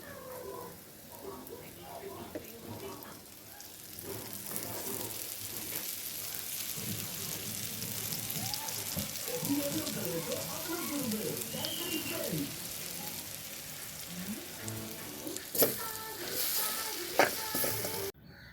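Ivy gourd stir-fry sizzles steadily in coconut oil in a pan, while a cat meows repeatedly close by and a person talks over the frying.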